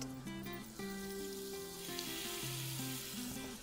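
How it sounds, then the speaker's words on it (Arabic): Duck breasts sear in melted butter, a steady soft sizzle running beneath louder background music with a melodic tune throughout. "مكعبين زبدة، بمجرد ما هيسيحوا هنزل عليهم على طول بصدور البط."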